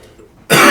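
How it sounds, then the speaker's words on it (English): A single sharp, loud cough bursts out abruptly after a brief quiet moment. "God, I hate coughing so much"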